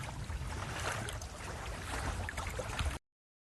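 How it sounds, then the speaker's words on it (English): A sailboat tacks upwind on the Rance estuary, with steady wind rush and water swishing against the hull, continuous and fairly close, then cutting to silence near the end. "I'm just tacking my way up, tacking upwind towards the dam."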